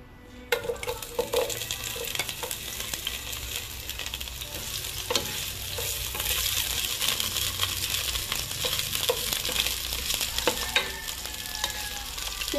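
Onions fry in hot oil in a pot for pork pochero, a dense crackling sizzle that grows after they drop in, with stirring scrapes and light clinks of the utensil, close and without talk.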